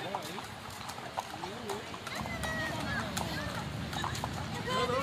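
Horse hooves clip-clopping during a tourist horse ride in Baguio, a light, regular patter of steps heard under people talking nearby.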